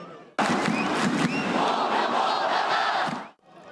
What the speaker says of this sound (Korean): 경기 시작 전 홍명보 감독이 들어서자 응원석에선 야유가 터져나왔고